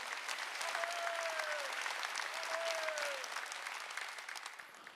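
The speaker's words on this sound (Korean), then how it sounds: "이초성 목사가 광고하는 걸 듣는 사람은 박수 치라는 거예요" A church congregation at a Sunday worship service claps together in steady, moderately distant applause that fades toward the end, with a faint sliding tone sounding twice in the background.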